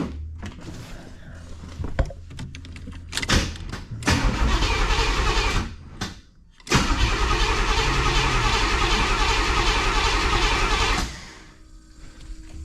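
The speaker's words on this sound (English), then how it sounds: "let me crank the key over and see if it leaks" A 1985 Pontiac Trans Am engine cranks with a few short bursts of starter whirring, catches, then stumbles briefly before firing again and running steadily at a loud, close idle that cuts off near the end.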